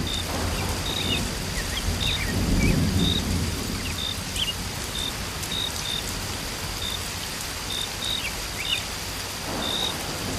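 Steady rain with a deep rumble of thunder swelling near the middle, in a cartoon forest, with faint bird chirps above the downpour and no talking.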